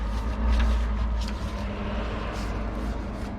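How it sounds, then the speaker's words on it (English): A big dump truck drives past outdoors, a steady, fairly loud low engine rumble that swells early and then holds as it rolls by. "That's a big dump truck there."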